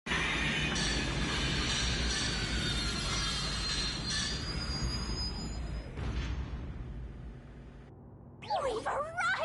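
A train pulls into a station in the video game Rain Code, a loud, steady rumble of wheels and carriage noise that fades near the end, followed by a brief burst of other game sound.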